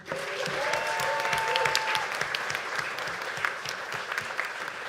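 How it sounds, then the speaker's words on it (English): A crowd at a comic arts festival opening night claps steadily in a dense, continuous round of applause, with faint voices mixed in. "Big round of applause for Bill Morrison."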